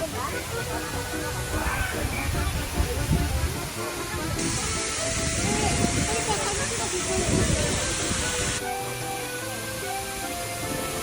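Tumalog waterfall near Oslob, Cebu, pours in a steady broadband rush of falling water that holds throughout, with a brighter hissing stretch in the middle and people talking over it.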